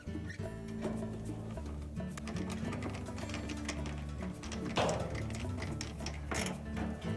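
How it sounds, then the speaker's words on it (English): Quarter-inch screws being driven into the metal cover of a Whirlpool dryer, a busy whirring and ratcheting of a driver with clicks and rattles of sheet metal, close and moderately loud. "We'll reinstall all the 1/4 inch screws first."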